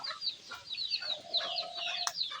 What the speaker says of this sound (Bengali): এই যে মুরগি চলে আসছে এখানে দেখছেন মুরগি চলে আসছে